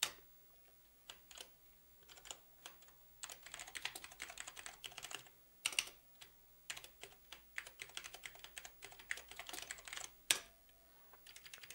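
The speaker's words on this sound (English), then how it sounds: "So I can actually cursor back into here and just type." Rapid, uneven clacking of keys on a 1986 IBM PC Convertible laptop keyboard, bursts of keystrokes with short pauses between them, close and fairly quiet, no voices.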